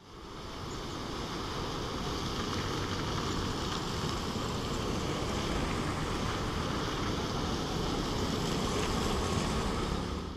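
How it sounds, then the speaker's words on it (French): Floodwater from the Mutimbuzi river rushes steadily in Buterere, a dense, continuous roar with no pauses, broad and unchanging throughout, with no voices. "l'eau coule de partout"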